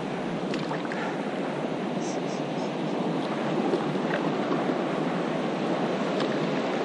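River waves on the Missouri River in Montana rush and splash around a paddleboard in a steady, loud wash with wind noise on the microphone.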